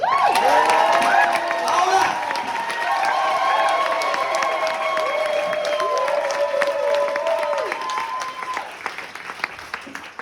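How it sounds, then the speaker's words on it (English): Wedding guests break into a loud round of applause for the bride and bridal party, dense clapping mixed with cheers and whoops from the crowd, holding steady for the full stretch before tapering at the end. "can I get a round of applause for how beautiful the bride and the bridal party look today?"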